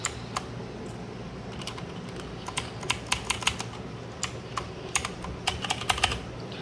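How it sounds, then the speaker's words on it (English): Plastic keycaps clicking back onto the switches of a mechanical keyboard with a reversed spacebar, a run of sharp, irregular snaps and taps close by over a faint steady hum, with no one talking. "Now I can just add back the keycaps."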